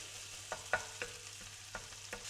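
Sausage meat frying in a pan while being stirred and mashed up, with a steady low sizzle and a handful of separate spoon scrapes and knocks spaced through it.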